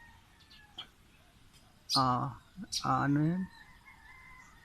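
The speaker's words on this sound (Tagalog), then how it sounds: "saka yung mga huni ng mga tilaok ng mga manok" Rooster crowing heard twice in quick succession at a neighbourhood home in the morning, two loud harmonic calls standing out over quiet background with a faint soft voice before them.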